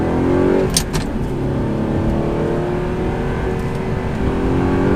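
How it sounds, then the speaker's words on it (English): A loud, close Audi R8 engine roars steadily, its pitch rising and falling as the car accelerates and rev-matches downshifts through the gears, with no talking. "Rev matching those downshifts."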